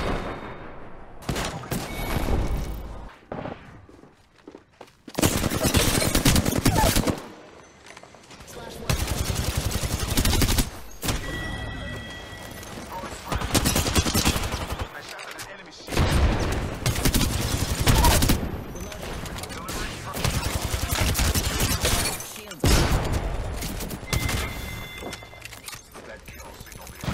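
Bursts of rapid gunfire and explosive volleys from a battle-royale style shooter video game, loud and repeated in several long salvos separated by short lulls, with voices talking between.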